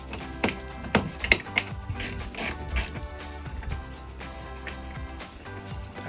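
A ratchet clicks in quick bursts as fender liner bolts are backed out on a Jeep Gladiator JT, the rapid pawl ticking close and alternating with short pauses and metallic handling noises.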